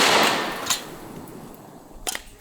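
A Jerry Miculek 940 Pro semi-auto shotgun fires double-aught buckshot outdoors: a loud blast opens and rings away, followed by a couple of sharp cracks and clicks.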